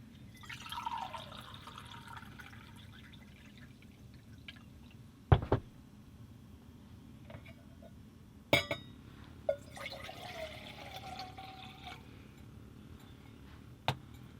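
Water is poured into a small metal pot in two streams, with a few sharp clinks of metal between pours in a quiet room.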